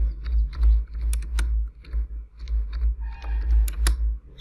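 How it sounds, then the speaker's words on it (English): Irregular, light key clicks from typing on a computer keyboard, scattered taps in short bursts, close and clear over a low steady hum. "Let me open this document. Here I will type anything."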